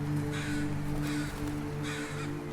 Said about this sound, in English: They will produce the scold call, caw, caw, caw, caw.